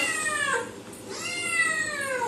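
A cat meows twice up close, each call a long wavering whine separated by a short quiet gap, loud and clear.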